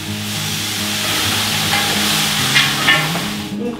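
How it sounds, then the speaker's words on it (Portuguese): Chicken frying in pork lard in a pan, a steady loud sizzle with occasional crackles and a few stirring clinks, with no talking. "Enquanto a banha de porco faz o papel de fritar e dar cor"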